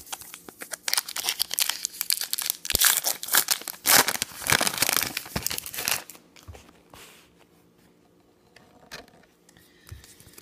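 A Topps Star Wars Rogue One card pack wrapper is torn open and crinkled close up, a dense burst of crackling foil and tearing that fades into quiet handling near the end, no talking.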